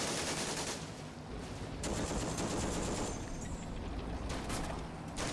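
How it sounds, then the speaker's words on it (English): Dense gunfire and machine-gun bursts in the WWII strategy game Combat Mission: Afrika Korps, a sustained rattling fusillade with clustered sharp cracks near the start and again later, continuous and loud without talk. "I hear shooting."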